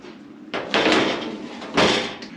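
An early 40 series Toyota LandCruiser door being handled in a workshop, giving two close clunky bangs of the metal door about a second apart, with no talk.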